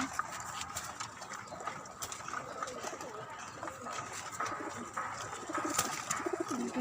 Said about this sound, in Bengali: এদিকে সব কবুতর খাবার খাচ্ছে।